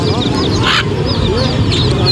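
Ducks quack in a busy bird market in Lalukhet, their nasal calls repeating over steady crowd noise and nearby voices.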